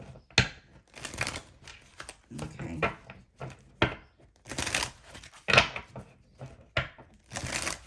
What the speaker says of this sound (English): So let me shuffle, because too many cards are like acting weird